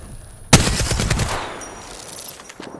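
Gunfire in Apex Legends: a sudden loud rapid automatic burst lasting about a second, trailing into a fading echo with faint electronic tones.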